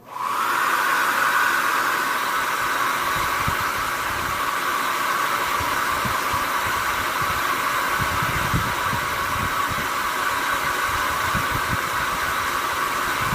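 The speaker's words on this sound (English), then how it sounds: "Just going to take a minute to blow a hairdryer." A hair dryer blows steadily and loudly at close range, a constant whooshing roar with a motor whine that runs on unbroken.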